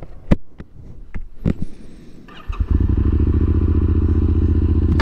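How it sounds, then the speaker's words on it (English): A Yamaha Tenere 700 with a Yoshimura exhaust is started after a few clicks and clunks; the engine catches and settles into a loud, steady, throbbing idle close by. "let's fire this bad boy up here"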